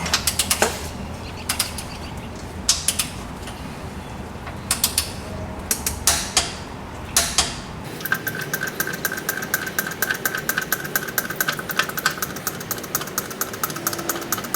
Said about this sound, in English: We'll go ahead and tighten it up with a 24mm socket to 38 foot-pounds.